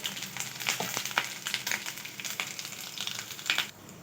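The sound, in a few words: ginger frying in oil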